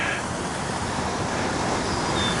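A waterfall pouring into a carp pool makes a dense, steady roar of rushing water, loud and unbroken from start to finish.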